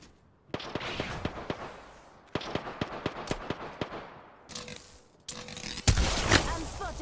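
Gunfire in the video game Apex Legends: rapid bursts of sharp shots in two volleys, then louder chaotic impacts and shield effects, close and punchy.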